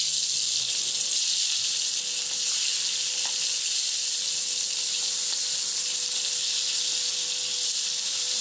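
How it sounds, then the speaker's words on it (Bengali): Chicken pieces fry in hot cooking oil in a large pan, a loud, continuous, even sizzle that holds steady from start to finish. "মাংসগুলো তেলে দিয়ে ভেজে নিব"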